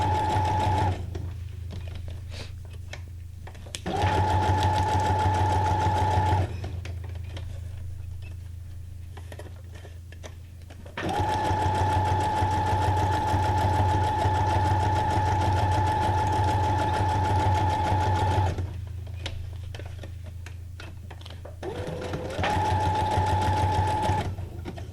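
A sewing machine runs a zigzag-style stitch in three close, loud bursts of rapid rhythmic stitching, a short one, a long run of several seconds and a final short one, with a low motor hum and quiet pauses between bursts.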